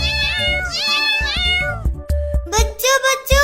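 A cat meows loudly and close up in a string of drawn-out, wavering cries that break into shorter yowls toward the end.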